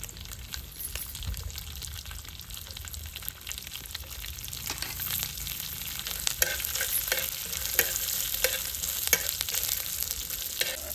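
Green chili pieces and peanuts cooking in a pan for a sorghum-flour masala idli chutney, with a steady low sizzle and intermittent stirring scrapes that grow slightly busier toward the end, no voices.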